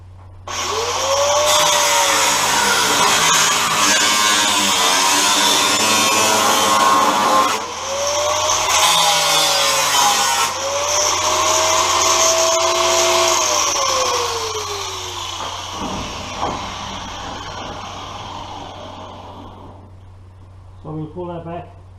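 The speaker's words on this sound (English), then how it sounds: "We'll put a slice here with the grinder, slice here with the grinder" An angle grinder cuts metal during a door hinge repair, its whining motor rising and falling in pitch as it spins up and bites in, loud and close for most of the stretch before winding down to quiet near the end.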